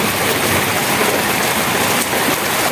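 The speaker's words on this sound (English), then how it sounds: "that's how beautiful rain in Western Kenya" Heavy rain in Matunda, Western Kenya, pours down in a steady, dense hiss with no pauses, close and loud throughout.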